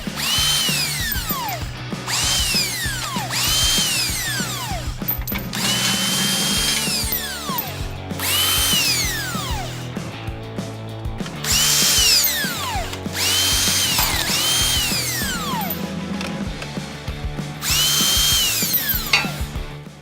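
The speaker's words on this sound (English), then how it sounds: "I'm using power tools for this just to make life a little easier" A power drill revs repeatedly in bursts while removing bolts from a Chevrolet Silverado front bumper, each whine rising then falling in pitch, close and loud with metallic ratcheting between runs.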